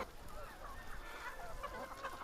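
Chickens clucking on a Korean farm, a busy overlapping flock of clucks and squawks continuing throughout at moderate distance, with no talking.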